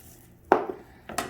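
A knife slices through a brisket flat resting on a cutting board, giving two short, close knocks of the blade meeting the board, about half a second apart, in an otherwise quiet kitchen.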